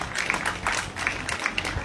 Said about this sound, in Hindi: एक बार जोरदार तालियों के साथ सम्मान किया जाए